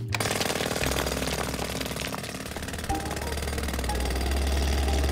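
A cartoon jackhammer digging at a construction site, loud and continuous pounding that holds steady throughout with no talking.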